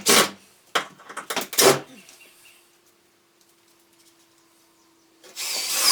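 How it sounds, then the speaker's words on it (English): A power drill drives screws into studs during a mobile home rehab, heard as a few short, close, loud whirring bursts, then near silence with a faint hum before another loud burst at the end. "now I just got to screw everything into place."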